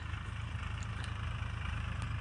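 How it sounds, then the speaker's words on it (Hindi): A farm tractor rolls along a village road with a steady, low, throbbing diesel chug that pulses evenly throughout, at a moderate distance and without voices. "ये सामने से एक ट्रैक्टर आ रहा है"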